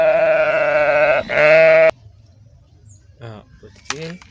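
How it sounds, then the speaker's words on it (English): Toy sheep giving a loud, harmonic bleat for nearly two seconds, wavering midway, then cutting off abruptly; brief talking follows afterward. "this is sheep"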